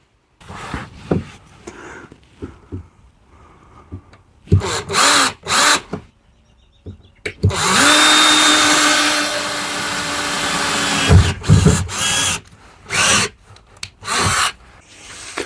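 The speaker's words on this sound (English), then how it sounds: "Now I've got to pre-drill the metal because these metal screws are not self-tapping." A power drill whirs into metal in one sustained burst, preceded and followed by short clattering knocks and handling noises, close by.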